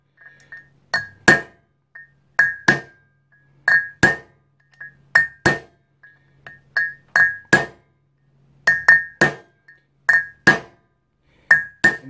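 Sharp metallic hammer strikes on a punch driving a trailer hub bearing race ring out in quick bursts of two or three, pausing between groups, close and loud with no talking.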